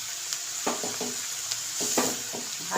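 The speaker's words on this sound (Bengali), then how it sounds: "ভালোভাবে আমি এভাবে মিশিয়ে নেব।" Korai saak greens stirred in a hot pan over a high gas flame, a steady bright sizzle broken by repeated scraping stirs at an uneven rhythm, close and fairly quiet with no voices.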